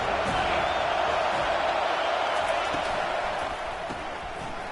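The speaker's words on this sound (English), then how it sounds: "Decibels rising as the crowd gets behind this defense on 3rd down." A football stadium crowd roars for the defense on third down, a dense, steady wall of cheering heard from within the stands, sustained and slightly fading toward the end.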